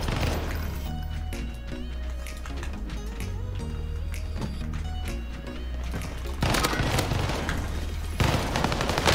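Rapid bursts of gunfire from an ITRA Burst weapon in a video game, heard as repeated clustered shots under steady music and game sounds, growing louder near the end.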